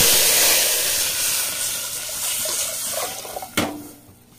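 Hot tempering oil for rasam sizzles and hisses steadily as spices go in, with a sharp crackle near the end before the frying sound eases off.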